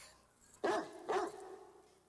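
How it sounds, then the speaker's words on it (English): A dog gives two sharp, fairly close barks about half a second apart in an indoor scene from a 1992 film, over quiet background hiss. "And dogs bark."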